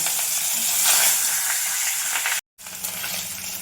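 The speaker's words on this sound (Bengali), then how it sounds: "তেল গরম হয়ে গেছে, মাছগুলো আমি দিয়ে দেবো।" Hot oil hisses and crackles steadily as fish fries, a bright continuous sizzle broken by a short silent gap near the end.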